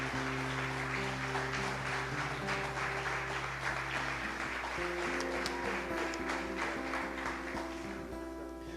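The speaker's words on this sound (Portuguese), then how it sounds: "vamos aplaudir mais a Jesus." A church congregation in Guarulhos applauding during a worship service, steady clapping mixed with sustained organ or keyboard tones and music underneath, moderately distant.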